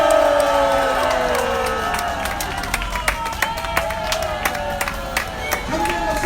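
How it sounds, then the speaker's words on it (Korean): A crowd at an outdoor political rally in Gwacheon claps and cheers, with scattered whoops and sharp individual claps rising over a steady roar, while voices talk through the noise. "장재현 박사님의 용기와 용기의 박수를 부탁드리겠습니다"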